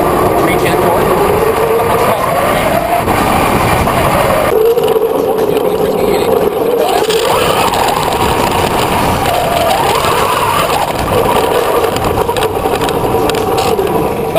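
An electric four-motor AWD UTV prototype rolls downhill under regenerative braking, giving a steady loud whine that shifts in pitch, with a constant rumble of tyres and wind underneath, no talking.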